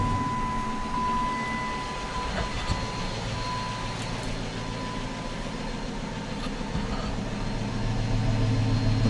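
A Chrysler 300C with a loud exhaust runs in a steady, dense, rumbling drone that holds constant throughout, close and fairly loud, with no talking.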